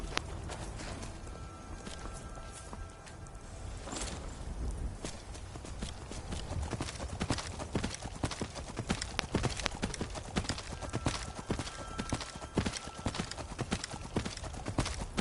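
Hooves of Arvak, the skeletal horse in Skyrim, clip-clop steadily as he trails behind, a continuous walking rhythm of close, distinct hoof strikes that grows busier in the second half, with game ambience underneath.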